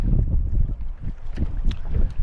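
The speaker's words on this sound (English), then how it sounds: "this wind is being so bad" Strong wind blasts into the microphone while fishing from the shore at Greenwell Point, Shoalhaven, a loud continuous low rumble with gusty surges and no voices.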